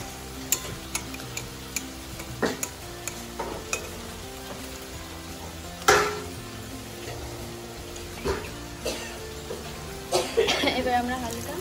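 Pieces of fish dropped one at a time into a hot pan of curry give short sizzles and frying crackle with a few clinks, and a louder burst midway, under a voice.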